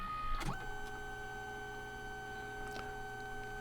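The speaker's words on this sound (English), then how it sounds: "Printing the next color." A Liene PixCut S1 printer printing a phone skin gives a steady electronic hum with a few short clicks and mechanical shifts near the start and again later, close and even, with no voices.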